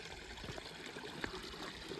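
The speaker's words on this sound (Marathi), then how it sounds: "इथे पाण्याचा एक छोटासा ओढा दिसेल बघू पाहू शकता पूर्ण वाहतं पाणी आहे" A small stream flows along a trekking trail to Harishchandragad via Pachnai, its soft, steady trickle and gurgle faint and continuous, with no voices.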